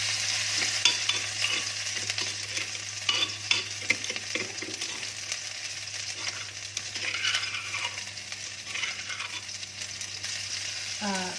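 Chilies and garlic fry over low heat for a three-flavor chili sauce to go over fish, with continuous sizzling and repeated scraping, clinking stirs of a utensil against the pan.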